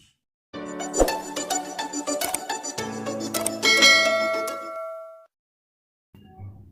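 A notification bell sound effect rings out as bright, layered chimes and dings, loud and close, with ringing tones that sustain and then cut off, followed by a short low tone after a gap.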